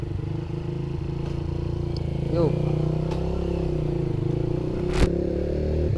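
A Honda Nova Sonic 125 motorcycle idles with a steady low engine drone, then rises slightly in pitch as it pulls away, with a brief clunk midway; a voice speaks briefly over it.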